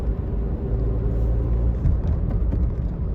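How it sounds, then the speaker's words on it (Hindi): An in-cabin engine rumble from a car accelerating in third gear before shifting up to fourth, a steady low drone with slight swells and no talking. "थर्ड गियर में हमारी कार चल रही है, थोड़ा और स्पीड को मैं बढ़ाता हूं"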